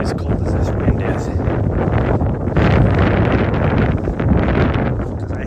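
Cold wind buffets the microphone during a morning trail run, a loud, rough rumble that gusts stronger partway through, with a voice speaking faintly under it.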